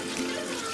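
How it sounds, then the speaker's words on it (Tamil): Water poured over five cups of rice in a pot for Ramzan biryani, a steady close splashing rush that runs unbroken through the short stretch with no voices. "டோட்டலாக 5 கப் அரிசிக்கு 5 கப் தண்ணி வந்து ஊற்றிடுறாங்க."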